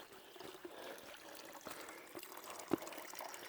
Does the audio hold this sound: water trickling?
yes